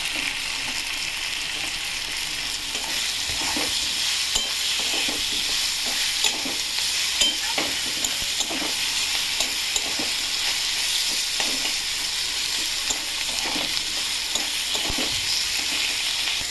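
Chopped tomato and green chillies sizzling in a hot pan while being stirred, a steady loud fry hiss with repeated scraping strokes throughout.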